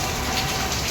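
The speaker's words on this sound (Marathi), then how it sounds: "आता सगळा पाऊस पडतो" Steady rain pouring down, a dense, even hiss of drops on surfaces, close and loud throughout the short moment.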